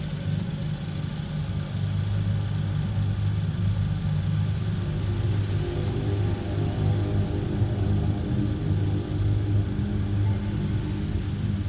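A parked car idles steadily at a railway crossing beside a forest, a low continuous engine rumble holding even throughout with no voices.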